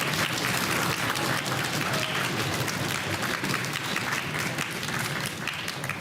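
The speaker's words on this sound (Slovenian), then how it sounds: "En aplavz obe ekipi." Audience at a school quiz show applauding both teams, dense continuous clapping from a full room that stays loud throughout and eases slightly at the end.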